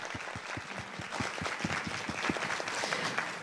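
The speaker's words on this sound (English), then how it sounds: "Please give them a round of applause." At a school district spelling bee, the audience applauds the winner and runner-up with steady, dense clapping from many hands. It is moderately faint, as if heard from across the hall, and carries on evenly without voices.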